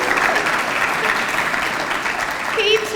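Banquet audience applauding in a hall, a steady wash of many hands clapping for three seconds with voices mixed in near the end.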